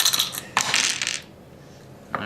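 Four dice rolled during a Quorsum board game rattle and clatter across a hard surface in two quick bursts, followed by a faint final click.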